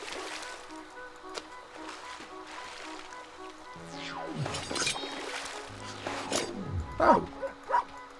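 Dog barking in the video game Sword & Sworcery EP, a few sharp yips and barks toward the end over soft ambient game music and effects.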